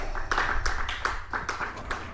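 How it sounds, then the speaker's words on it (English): A small audience claps for a performer introduced as Trump Vader, a quick burst of handclaps, fairly close and steady, fading slightly toward the end. "let's give him a round of applause"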